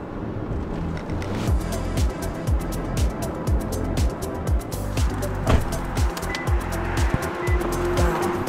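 Ride inside a Tokyo taxi: a steady low engine and road rumble close up, with repeated rhythmic thumps from the road surface and faint ticking, under quiet talk.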